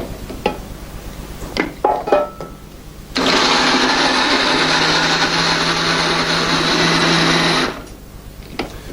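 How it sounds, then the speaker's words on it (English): A liquidizer blends whole cherry tomatoes, skins and seeds included, for a tomato butter sauce. A few clattering knocks come first, then a loud, steady, high motor whir runs for about four and a half seconds and stops abruptly. "we put them in the liquidizer, skins, seeds, everything. Liquidize them for about 30 seconds"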